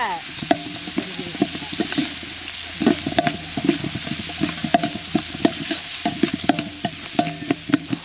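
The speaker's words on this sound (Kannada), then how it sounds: "ಈರುಳ್ಳಿ ಹಾಕಲಿ, ಚೆನ್ನಾಗಿ ಫ್ರೈ ಮಾಡಿ" Onions fry in oil in a pan with a constant crackling sizzle, while a spatula scrapes and knocks against the metal in a steady, repeated rhythm, loud and close, with no one talking.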